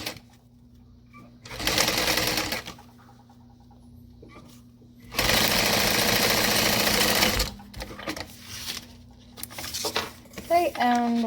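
A sewing machine stitches the main panel of a backpack in two sustained loud runs, a short burst and then a longer one, separated by quiet gaps with light handling noises and a few sounds near the end.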